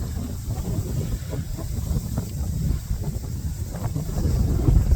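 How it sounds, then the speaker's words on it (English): Strong wind at Glacial Lakes State Park, Minnesota, buffets the microphone with a deep, rumbling roar, gusting steadily and growing louder toward the end. "That is windy."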